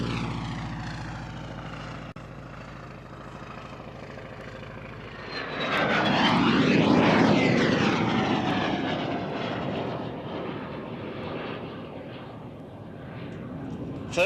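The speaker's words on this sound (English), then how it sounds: "Martin with his wing walker, Sarah." A wing-walking display aircraft flies past at the 2006 Kemble Airshow, its engine drone swelling to a loud close pass with a falling pitch sweep, then fading into a steady hum, with faint commentary in the background.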